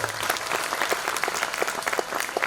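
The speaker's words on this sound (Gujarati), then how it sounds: "એમને પણ જોરદાર તાળીઓના નાદ સાથે વધાવો" Audience applause at a Khodiyar Mata festival gathering, honoring the accompanying musicians: a dense, steady burst of many hands clapping together, loud and close, sustained without a break.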